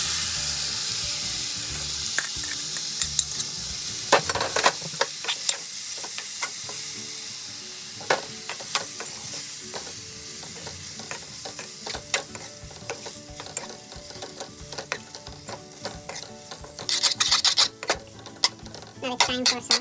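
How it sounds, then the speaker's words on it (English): Boiled elbow pasta added to a spicy vegetable mix in a pan and stirred, with frying sizzle under repeated sharp clicks and scrapes of a utensil, getting busier toward the end. "Then I will add our boiled pasta"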